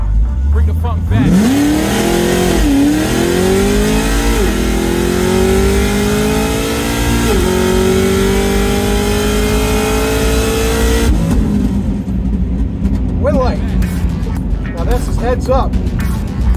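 A car engine in a video game race revs up loudly and holds a rising, droning pitch through gear changes, then drops away into rougher, quieter engine noise, with people talking over it.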